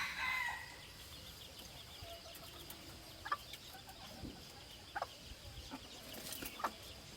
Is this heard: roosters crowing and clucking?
yes